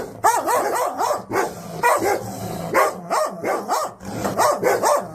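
A dog barks repeatedly in quick bursts, loud and close, a rapid series of sharp yapping barks with brief pauses between groups over about five seconds.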